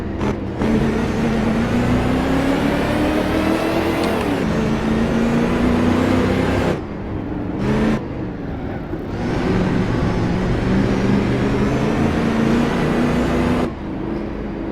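Engine of a 1936 Mercedes racing car at Donington Park in an Assetto Corsa racing game, a loud continuous roar rising and falling in pitch through gear changes, with brief drops between shifts.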